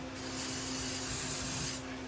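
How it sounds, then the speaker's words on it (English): Silicone spray lubricant hisses from an aerosol can onto a part of an E46 BMW 325i, one steady broadband spray lasting well over a second, close and fairly loud with no talking. "Just a little silicone spray."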